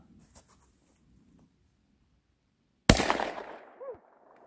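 A Panzer EG200 shotgun fires a single Remington shell: one loud, sharp blast that rings briefly and fades, after quiet handling noises, with a short mechanical clatter just behind it.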